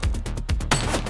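Gunfire in the video game The Precinct: a rapid string of about five close, loud gunshots in a quick rhythm, then a louder burst with a ringing tail.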